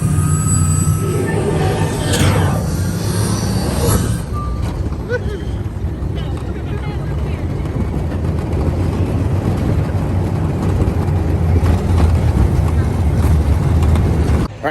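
A ride vehicle on Test Track at Epcot gives a loud, continuous rumble of motors and wind noise through the whole ride, with a rising whine in places and a few beeps.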